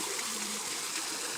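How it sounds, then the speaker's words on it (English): Water runs steadily over an automatic garden waterfall feature, a continuous broadband rush and trickle at moderate level, with no voices. "So the waterfall now, it's running for a couple of minutes and the water reservoir is almost filled."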